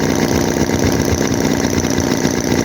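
A Chinese-made Holt H75 vintage-style four-cylinder model engine runs steadily at a smooth idle, a loud, close, continuous mechanical chugging with an even rhythm and no voices.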